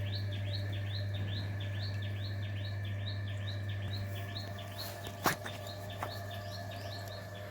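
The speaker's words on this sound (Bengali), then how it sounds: "আর পাখি তো ডাকছেই" Garden birds give a steady run of short, repeated chirping calls, with one or two sharper notes near the end, over a constant low hum. No one speaks.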